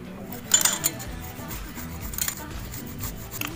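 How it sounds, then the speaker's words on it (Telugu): Fresh ginger grated over a tea strainer set on a small cup, a soft steady rasping scrape with a few brighter metallic scratches, close and fairly quiet. "ఇలా చిన్న కప్పు మీద ఒక జల్లెడ పెట్టుకొని టీ స్ట్రైనర్ పెట్టుకొని అల్లాన్ని తురుమాలి"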